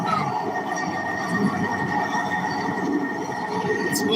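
A train in Chicago rumbles steadily with a continuous low roar of wheels and carriage noise, sustained and fairly loud throughout with no clear voices.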